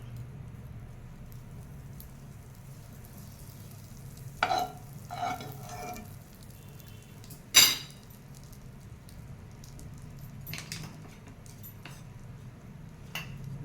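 Butter melts in a pan on the stove for egg chilli, giving a faint, low sizzle with a few light clicks and taps, no one speaking.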